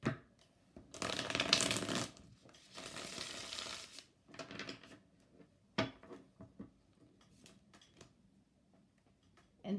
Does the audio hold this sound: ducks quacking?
no